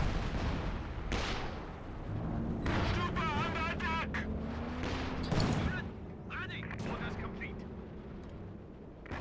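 An artillery barrage in a real-time strategy video game, with repeated heavy booms and gunfire blasts scattered irregularly under continuous commentary from a talking voice.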